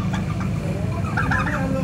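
Close-up calling from a large turkey in Paloh: choppy clucking and warbled notes that swell toward the end, alone and fairly loud.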